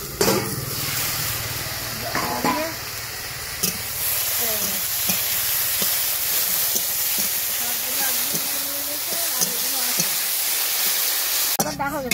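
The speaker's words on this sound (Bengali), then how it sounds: "এই ভাজাটা হয়ে গেছে, ঝিঙে শাক আর আলু ভাজা।" Ridge gourd greens and potatoes fry in a pan with a steady sizzle and hiss, broken by the scrape and clatter of stirring and faint murmuring in the background.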